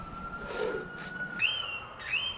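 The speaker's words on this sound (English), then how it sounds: "There'll be many sirens" A police siren sounds from nearby near Dallas, Texas, its tone rising and holding in repeated sweeping cycles over a faint low rumble, with no voices.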